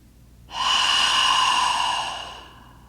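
A single long, deep breath is drawn close to the microphone during a stretch. It swells for about a second and a half, then gradually fades.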